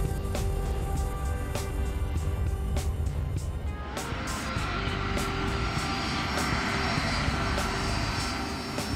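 Large jet airliner touching down with spoilers deployed, a loud continuous engine and airframe roar with a sharp change in the rumble partway through as the aircraft settles on the runway.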